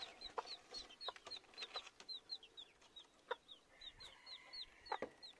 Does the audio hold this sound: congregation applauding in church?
no